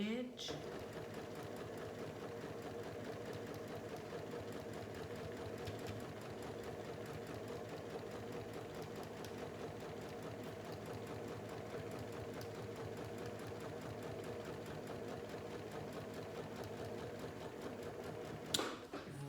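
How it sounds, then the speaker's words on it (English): A sewing machine runs steadily, stitching quilt strips right off the fabric edge, a continuous close mechanical hum that ends with a brief clatter near the close. "Now I can sew all the way off the edge."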